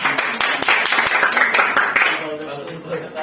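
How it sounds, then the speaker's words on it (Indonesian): A short burst of group clapping for a student group in a classroom, with voices mixed in, fading out as someone starts speaking. "tepuk tangan dulu untuk kelompok"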